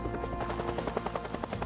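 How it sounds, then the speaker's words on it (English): A Bell UH-1 Iroquois Huey military helicopter flies past, its rotor blades thudding in a rapid, rhythmic chop over a loud, continuous engine whine. "Bell's new helicopter was originally called the Iroquois by the U.S."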